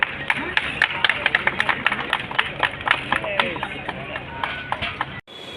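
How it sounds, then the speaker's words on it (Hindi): Loud, dense clapping from a crowd at a birthday celebration where a cake is being cut, with many overlapping sharp claps sustained throughout before stopping abruptly near the end. "जोरदार तालियों से स्वागत करें।"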